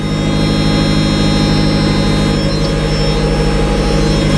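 Mazda Miata engine idling smoothly after warming up, a loud, steady, close drone with an unchanging hum that holds evenly throughout, with no voices.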